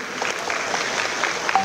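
Applause from an audience at a political speech by a chief minister in Rayagada, Odisha, a short burst of clapping heard at moderate distance with no voices over it.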